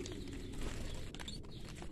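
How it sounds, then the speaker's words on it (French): Faint bird calls and cooing sit under dense background noise in a backyard aviary holding around 25 to 30 birds. "Ici on a tous les oiseaux que je garde pas"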